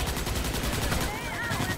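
Dense, continuous automatic gunfire in Starship Troopers: Extermination, rapid pulsing shots blending into a loud wall of combat noise, with faint whistling tones near the end.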